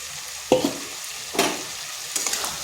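Soybean chunks, potato and chickpeas are sautéed in spiced oil, with a low sizzle broken by three separate stirring scrapes from a spoon against the pan, close and fairly loud.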